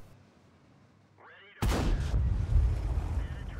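A WZ-131 tank fires its cannon in World of Tanks: one abrupt, loud boom over a quiet engine drone, then a long rumbling tail of the shot.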